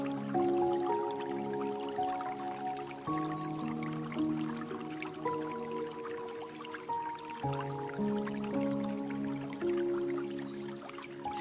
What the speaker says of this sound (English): Let this water flow through you.